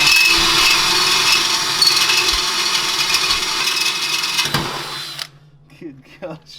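A power drill whines loudly and steadily as it bores into material while building a four-seater kids' go-kart, then cuts off, leaving a quiet room with a few faint knocks.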